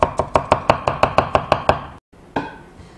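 A knife strikes a cutting board in quick, even chops, about a dozen close cuts, as cabbage is sliced into thin strips for Chinese ulmyeon, then a brief pause and one last cut.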